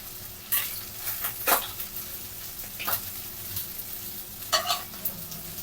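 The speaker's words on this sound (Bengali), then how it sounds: "সরিষার তেলে এটাকে আমরা সুন্দর করে ভাজবো" Hilsa fish gills and head fry in hot mustard oil with a steady sizzle. Several sharp bursts of stirring and scraping break through at intervals, loud and close, and nobody speaks.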